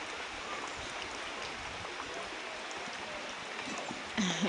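Rain falls steadily in a Ugandan village, a soft continuous hiss and patter, faint and even throughout, with a brief louder knock near the end.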